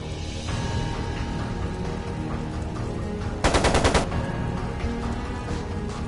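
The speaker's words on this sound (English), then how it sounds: "It sounded like a machine gun." Brief burst of rapid machine gun fire in the game Trails of Cold Steel II, a half-second rattle of closely spaced shots rising out of a steady rumbling background of music and ambience.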